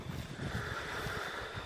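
A 1973 Cyclone 120 outboard motor runs steadily with a continuous droning hum and whine, close and constant throughout, with no talk over it.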